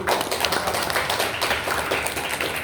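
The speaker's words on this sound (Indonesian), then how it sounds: "Tepuk tangan lagi." An audience at a storytelling competition claps after a performance, a dense, even patter of many hands heard close and steady throughout.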